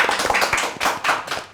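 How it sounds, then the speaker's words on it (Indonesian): Dense audience clapping fills the short stretch, loud and continuous with scattered sharp hand claps, on a Sundanese podcast welcoming a guest. "Tah galauna Pak RT, tepuk tangan."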